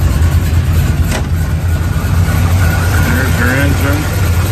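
A 1970 Chevrolet Chevelle L34 SS with dual exhaust idles steadily at a cruise night, a loud, constant low rumble close by, while people talk over it.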